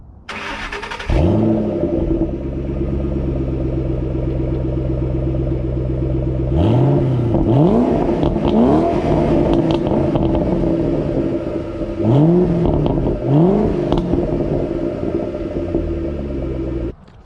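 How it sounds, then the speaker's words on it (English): A 2012 Shelby GT500 V8 revs loud and close through dual exhaust tips, starting with a sharp burst, then holding a steady deep idle broken by two clusters of rising and falling throttle blips. "it just sounds like an angry muscle car"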